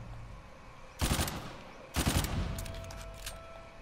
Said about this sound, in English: those are actually my gunshots